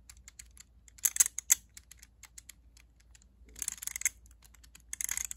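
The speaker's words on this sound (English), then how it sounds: "And when I turn this inwards, it ratchets." LEGO ratchet mechanism turning, giving quick light plastic clicks in irregular bursts, some dense rapid runs and some sparse single ticks, close and fairly quiet.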